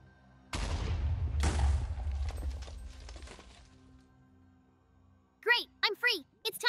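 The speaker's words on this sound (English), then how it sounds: "I think I should move that TNT closer to the fire. The heating will ignite and explode" A single deep, booming blast of TNT going off near a fire in Minecraft, followed by a second heavy boom and scattered crackling debris; voiced speech follows after a short quiet gap.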